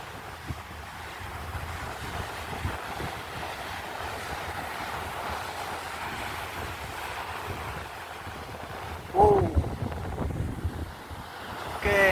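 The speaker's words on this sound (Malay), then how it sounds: "Nampak kuat ombak kali ni." Steady roar of strong surf on a beach at Pantai Dungun, Malaysia, before monsoon season, with wind buffeting the microphone, a louder wave crash and a couple of faint bird chirps near the end.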